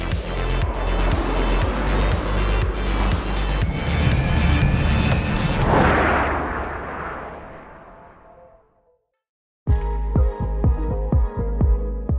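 A 2011bhp Lotus Evija electric hypercar accelerates hard on a track with a loud, dense roaring rush that swells and then fades away. After a brief silence a loud, rhythmic pulsing mechanical sound starts.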